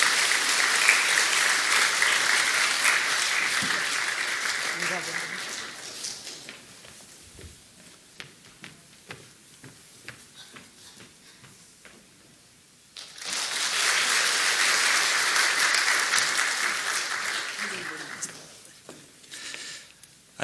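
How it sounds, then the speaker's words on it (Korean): Two loud bursts of audience applause in a Korean church service, welcoming a brother who lived in Spain, each lasting several seconds, with a quieter stretch of scattered sounds between them. "힘찬 박수로 잠깐 맞이해 주시기 부탁드립니다."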